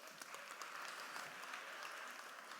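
A keynote audience at PNW Live 2024 applauds for business leaders in a continuous, even wash of many hands clapping at moderate, slightly distant loudness, with no voices on top.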